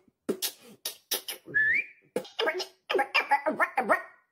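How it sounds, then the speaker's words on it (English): Generated whistling from a portrait of a woman, a short rising whistle and a run of quick warbling notes between breathy, clipped vocal bursts, close and fairly quiet. "So maybe we want her to whistle and it has audio"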